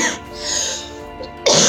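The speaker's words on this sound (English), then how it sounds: "Oh, I can't laugh, then I cough." A person coughs after laughing, a short burst at the start followed by a quieter breathy stretch and a sharp loud cough or throat-clearing at the end, close to the mic.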